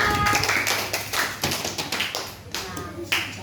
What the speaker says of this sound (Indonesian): Tepuk tangan untuk Rizwan.